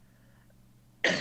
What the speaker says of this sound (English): I've still got a bit of a cough